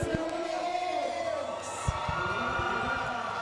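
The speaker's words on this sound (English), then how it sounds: "Mac is getting the crowd going." A field hockey crowd at a U16 national finals cheers and whoops from the sidelines, with a few sharp claps and shouts over a continuous murmur while a commentator talks.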